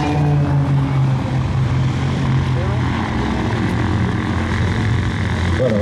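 A Grumman Tracker T-24 Turbo Firecat turboprop flies an airshow display, its engine drone steady and loud throughout, with a commentator talking over it.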